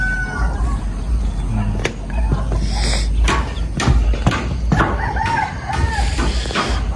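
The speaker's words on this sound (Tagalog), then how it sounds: "puro manok yan sa likod ko, oh" Chickens cluck nearby while a rooster crows, over a busy, noisy outdoor background.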